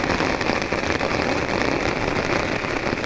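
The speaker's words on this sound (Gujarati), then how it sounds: "અહીંયા વરસાદ વરે શરૂ તડકે વરસાદ હો ભાઈ" Rain falls during sunshine, a dense, continuous patter of drops on surfaces at an even level from start to finish, with no talking.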